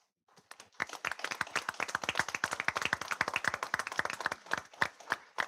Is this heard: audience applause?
yes